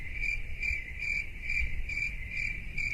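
Crickets chirp steadily in a close, continuous high-pitched trill that pulses in a regular rhythm of roughly three beats per second, sounding alone over faint low background rumble.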